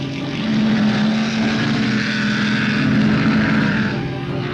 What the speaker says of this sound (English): fine driving by Arnold Glass in number 10, who's pushing his Cooper Maserati just as hard as he can